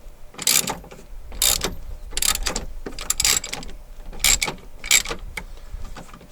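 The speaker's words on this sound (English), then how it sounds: "A few turns on this with the wrench while I'm standing here." Wrench turning against hardware on the dash of a 2006 Jeep Wrangler TJ, a series of about seven rhythmic ratcheting, clicking bursts with brief pauses between them, close by and fairly loud, with no voices.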